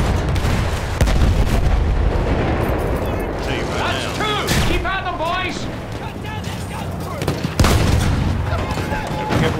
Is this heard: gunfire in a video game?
yes